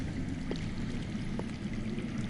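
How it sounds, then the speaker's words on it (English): Underground water flowing in a PS4 video game, a steady muffled rushing wash with a faint gurgle, low and constant throughout. "That's water. I hear water. From underground."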